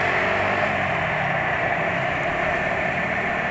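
Diesel SUV engine idling on Castrol Magnatec 5W40 full synthetic oil, a steady, smooth hum with an even broadband drone, close and constant throughout.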